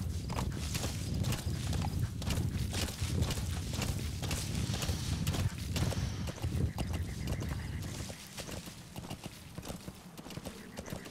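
Horse hooves clip-clopping in Metal Gear Solid V, a steady walking rhythm of close hoofbeats over a low rumble, with a brief whinny, the hoofbeats fading out near the end.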